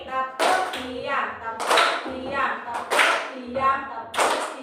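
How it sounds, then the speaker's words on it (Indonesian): A group of children claps in unison during a classroom clapping game, sharp sets of hand claps repeated in a rhythmic pattern, close and clear, with speech between the bursts. "Tepuk diam sebanyak 3 kali."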